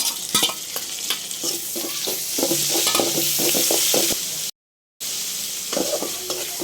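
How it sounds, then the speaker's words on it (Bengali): Cumin, garlic and ginger pastes with cinnamon, cardamom and salt frying together in a pan, a steady sizzle with repeated rhythmic spatula scrapes and clacks, close up and without speech, briefly cutting to silence near the end. "জিরা বাটা, রসুন বাটা, আদা বাটা, দারচিনি, এলাচি আর এই যে লবণটা দিয়েছি আমি মশলাটা যেন না ছিটে, এই জন্য একসাথে আমি এগুলো দিয়ে ভালো করে ভেজে নেব"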